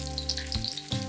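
IKEA meatballs pan-frying in oil until golden, a steady close sizzle with a couple of brief stirring shifts as they are pushed toward the oil.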